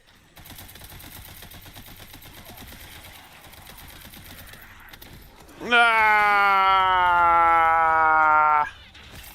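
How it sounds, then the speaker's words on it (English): Rapid automatic gunfire in a video game, loud and steady for about three seconds, rising sharply over quieter ambient game noise and then cutting off. "Somebody else shooting?"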